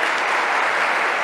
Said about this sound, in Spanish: Por favor, un aplauso para ustedes.